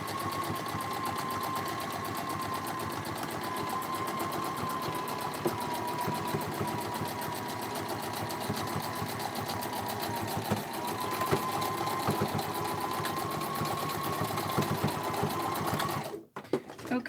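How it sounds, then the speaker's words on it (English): Close, steady whirring and rapid needle clatter of a sewing machine stitching a vintage purse, running continuously at an even pace before stopping abruptly near the end. "so we've done all the basic sewing on this machine now"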